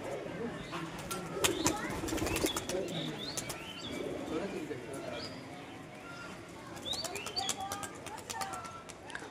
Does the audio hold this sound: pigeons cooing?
yes